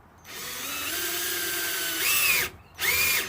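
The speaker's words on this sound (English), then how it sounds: "Pop that into the drill, and then that is going to go straight through the plastic handle" A power drill with a 13mm bit bores through a plastic handle, a loud steady whine that rises in pitch as it bites, stopping briefly once before spinning up again.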